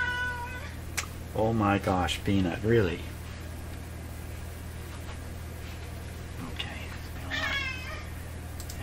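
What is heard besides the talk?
pet cat meowing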